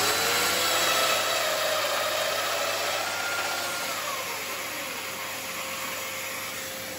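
Festool Domino joiner cutting a mortise into wood, a loud continuous whirring motor with a grinding cut that fades slightly over several seconds, no talking.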